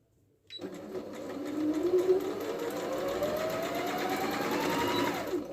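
A Singer Pitline 6580 sewing machine stitches an embroidery design. Its motor starts after a brief silence, then runs as a steady, close, continuous whirring hum with a faint rising whine, with no talking.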